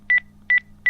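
Keypad tones of a mobile phone being dialed: three short, clear beeps in an even rhythm, close and loud over a quiet low hum.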